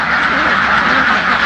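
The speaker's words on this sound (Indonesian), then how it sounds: "di pagi hari ini kita akan lihat bebek ya" Umbaran laying ducks quack loudly and continuously in a dense flock, a close, raucous overlapping chorus of quacks with no pauses.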